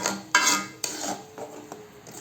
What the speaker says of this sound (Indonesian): ini tinggal kita aduk-aduk aja